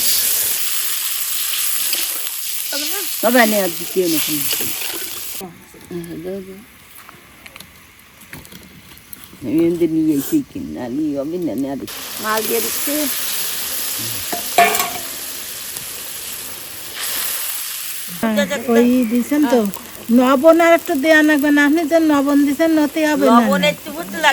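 Water hits a hot frying pan holding patari fish, giving a loud broadband sizzle and hiss that rises and falls, with a person speaking between and over the frying.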